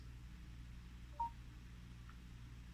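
A Samsung Galaxy Watch 4 placing a phone call through Bixby gives one faint, brief dialing beep, with a second softer tone a moment later, over a low steady hum in a quiet room.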